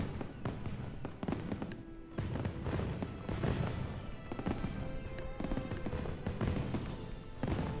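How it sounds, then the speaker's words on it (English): Fireworks display in a video game (Destiny-like demo on a Ryzen AI Max 395 with Radeon 8060S): a dense run of sharp pops and crackling bursts, repeating irregularly and fairly loud throughout. "Oh wow, there's like a big fireworks display going on."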